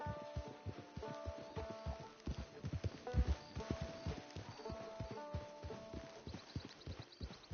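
Horses walking up to a camp, hooves clip-clopping in an uneven rhythm close by, with a few heavier thuds midway and a brief faint whinny, no clear speech.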